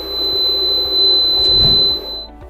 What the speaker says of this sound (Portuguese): o equipamento interrompe a dose automaticamente e um alarme soará para informar que a aplicação terminou